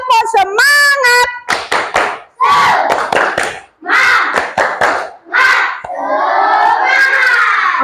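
A class of children doing a rhythmic spirit clap, with sharp bursts of group clapping mixed with loud chanting and shouting voices, close and energetic.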